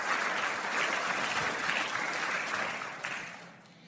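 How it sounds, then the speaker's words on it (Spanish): Audience applause after shofar blowers perform at a Jewish gathering, a dense wash of clapping that holds steady and then tapers off near the end. "vamos a darles un aplauso"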